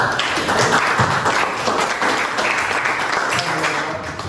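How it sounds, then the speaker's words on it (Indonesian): Sustained applause from a group, steady clapping filling the room for several seconds with a faint voice or two mixed in. "Berikan tepuk tangan untuk kelompok 2."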